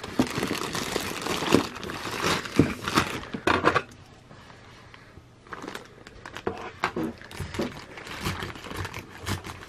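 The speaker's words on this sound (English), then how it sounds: "I'm just going to cut the bag open now and get each piece out" Scissors cut open a plastic bag holding Q Posket figure pieces, with close crinkling and snipping in bursts, a quiet pause midway, then more rustling handling of the plastic.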